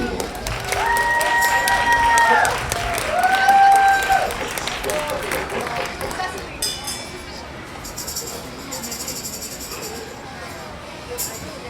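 Audience applause and cheering welcome a singer at a school jazz ensemble show at Knoebels, a steady crowd wash of clapping heard alongside a few sustained horn-like tones and talk.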